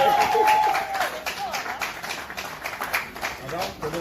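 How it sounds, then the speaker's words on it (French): Guests clap at a civil wedding, a dense, steady patter of applause filling the room and continuing throughout, with voices talking over it. "Est-ce qu'on peut applaudir"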